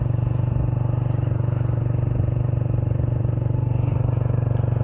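A motorcycle engine thrums with a steady, pulsing low chug at a constant pace, loud and close as it rides along, with no speech over it.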